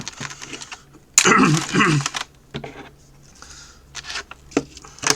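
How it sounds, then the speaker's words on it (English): Close-up clatter and rustling as objects are shuffled and moved around, with scattered knocks and scrapes of uneven loudness. "Sorry for the noise, I'm moving all this stuff around."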